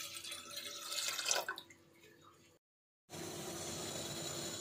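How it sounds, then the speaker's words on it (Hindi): Water runs from a tap into a cooking pot, half a litre measured out for boiling rice, a steady close splashing flow that stops briefly and then resumes as a continuous rush. "हाफ लीटर पानी डालेंगे चावल बॉईल करने के लिए।"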